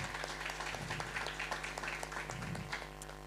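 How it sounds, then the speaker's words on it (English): Steady applause from an audience at a Strictly-style dance fundraiser evening, sustained crowd clapping throughout with a faint voice briefly audible beneath it. "A round of applause for our wonderful judges"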